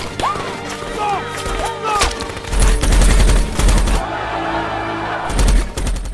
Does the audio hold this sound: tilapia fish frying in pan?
no